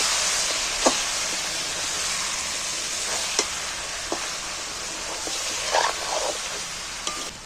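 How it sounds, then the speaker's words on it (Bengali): Red chilli and turmeric stirred and fried in a pan, a steady broadband sizzle running throughout with a few brief clinks and scrapes of the spoon against the pan. "এইবার আমি লঙ্কা আর হলুদ একটু এরই মধ্যে নেড়ে নিচ্ছি।"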